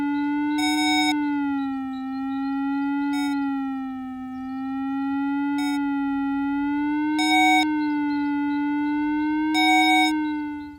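An XP Deus II metal detector sounds a sustained, gently wavering tone over a buried long metal bar, with brief higher buzzy chirps breaking in at intervals, steady and loud throughout.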